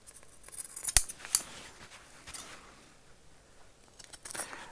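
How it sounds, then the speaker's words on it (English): Sewing scissors clip the corners and trim the seam allowance of a summer shirt, giving a few crisp, close snips in quick succession with quiet pauses between them. "now we just need to clip the corners here and the seam allowance"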